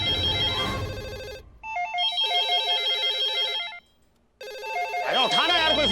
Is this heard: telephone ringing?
yes